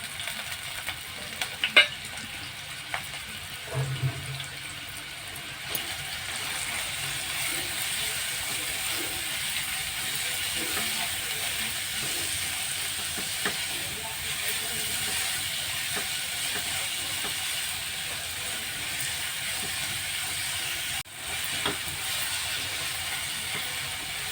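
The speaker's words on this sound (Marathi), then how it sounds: "त्यामध्ये हे तूप घालूया आणि भोपळा त्यामध्ये व्यवस्थित खरपूस भाजून घेऊया" Pumpkin pieces roast in ghee in a hot pan, giving a steady, low sizzle throughout, with a few early clatters and occasional scrapes from stirring.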